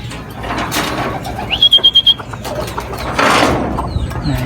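Racing pigeons in a home loft, with a burst of wing flapping and a short series of squeaky calls, then a louder rustle of wings and movement close by.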